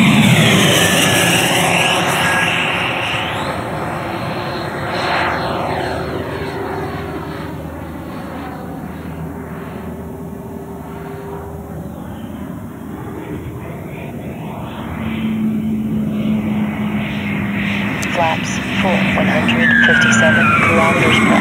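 An 11.3 kg EDF model jet with a JETFAN-120 PRO fan on a 7 kW, 16-cell setup makes a high-speed pass, its loud whooshing fan whine rising and falling with strong Doppler sweeps as it nears and recedes.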